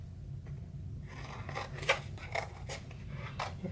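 Scissors cut through paper for a pillow box craft, a series of crisp, close snips and rustling crunches in a loose rhythm over a low room hum.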